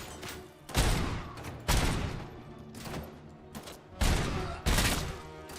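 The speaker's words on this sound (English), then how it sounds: "Oh, he has a machine gun." Loud bursts of machine gun fire in the Robocop video game, five or so heavy rattling volleys separated by short pauses.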